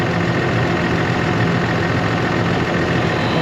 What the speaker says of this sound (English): A little compressor friend here is still fighting for his life.